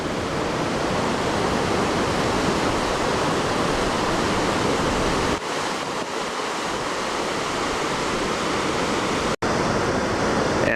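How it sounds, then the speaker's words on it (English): A river runs beside a mountain trail on the way to Namche Bazaar in the Everest region, a loud, steady rush of water that fills the whole stretch with only brief dips. "There's the river again running beside us."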